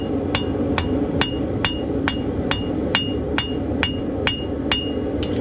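Ball peen hammer striking a horseshoe in a farrier's shop, a steady series of about a dozen sharp metallic blows at an even rhythm over a low background hum.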